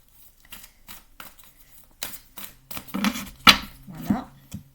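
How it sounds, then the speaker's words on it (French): Tarot cards are shuffled by hand in a series of soft, papery riffles and slaps that grow louder toward the end, close by, with a quiet voice speaking French intermittently over them. "Je vais bien les mélanger pour voir si on va retomber ou pas sur les mêmes cartes"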